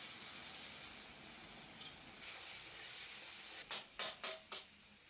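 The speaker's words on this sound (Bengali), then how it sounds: "মাছ ভাজা শেষ হবার পর গরম তেলে দেওয়া হয়েছে শুকনো লঙ্কা, টমেটো" Dried chilli and tomato frying in hot oil after fish, a steady bright sizzle and hiss close by, with a few sharp bursts of spitting near the end.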